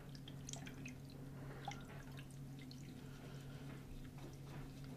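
With the tap shut off, water drips and trickles faintly into a bathroom basin while paint brushes are rinsed, soft scattered plinks over a low steady hum.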